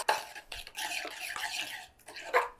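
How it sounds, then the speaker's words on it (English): A spoon stirs a chermoula spice blend with honey in a bowl, with soft swishing scrapes and occasional light clinks in a loose rhythm, close and fairly quiet. "Stir it all together."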